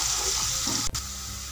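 Two onions frying in a cup of cooking oil until light brown, a steady close sizzle with a faint stir partway through.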